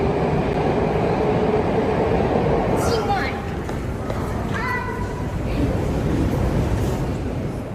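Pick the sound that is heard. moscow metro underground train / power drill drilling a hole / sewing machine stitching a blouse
moscow metro underground train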